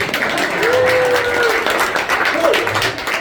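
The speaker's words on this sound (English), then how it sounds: "Y'all can clap for me just a little bit." A comedy-club crowd at a brewery gives brief, moderate clapping, a close, continuous patter with a few voices and a faint tone running underneath.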